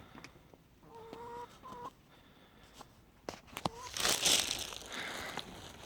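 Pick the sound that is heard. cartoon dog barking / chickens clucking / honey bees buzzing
chickens clucking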